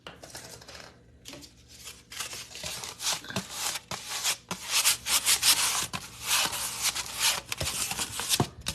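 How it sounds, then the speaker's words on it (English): A brush spreads wax across a painted furniture finish, making repeated dry rubbing and swishing strokes in an irregular rhythm, close and fairly loud, with no talking. "I'm just spreading the wax I put on my brush around, and we're just gonna go over it like this."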